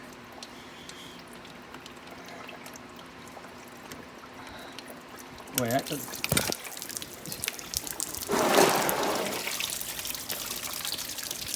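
Water drains and trickles out of a hole in a 1948 Willys CJ2A Jeep engine, a steady close pour that swells into louder splashing gushes midway, with a brief spoken remark over it.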